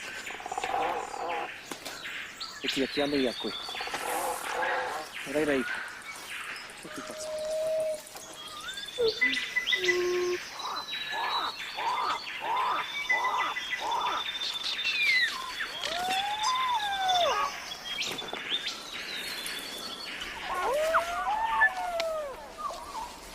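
Wild birds on a remote island where many species have lost flight call in a chorus of chirps, squawks and sliding cries, some near and loud, others farther off, continuing throughout.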